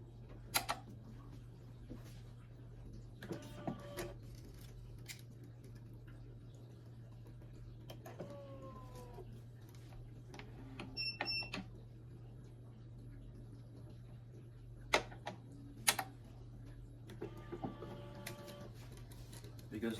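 A constant-pull electric tensioner on a racket stringing machine, tensioning Wilson natural gut in a Head Liquidmetal 4, gives quiet intermittent motor whirs and small clicks over a steady low hum.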